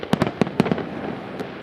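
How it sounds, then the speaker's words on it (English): Illegal fireworks going off in a residential neighborhood: a quick volley of sharp bangs, about six close cracks in the first second, then a lone later pop, with no voices. "The sights and sounds of fireworks are a thrill for many."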